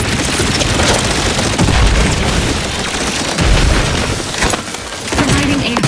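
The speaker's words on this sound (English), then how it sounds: "there's my other grenade" Grenade blasts in The Outer Worlds 2, a game, with booming thuds and crackling debris over continuous dense combat noise and gunfire, loud and close, with a voice speaking briefly over the chaos.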